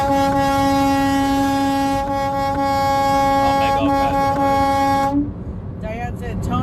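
A truck air horn blasts long and loud, with a steady low tone and stacked harmonics held for about five seconds, amid a protest convoy in Washington DC, then cuts off into traffic and crowd noise.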